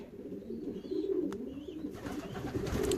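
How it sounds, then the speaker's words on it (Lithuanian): Homing pigeons returned from a 360 km race murmur with steady, low cooing close by, a continuous warbling drone with a few faint high chirps above it. "Grįžo du balandžiai,"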